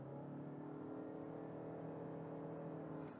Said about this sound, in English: when you press the throttle, the engine RPM goes to almost till your maximum RPM, and that is why it becomes a little shouty